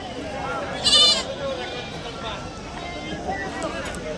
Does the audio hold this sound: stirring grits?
no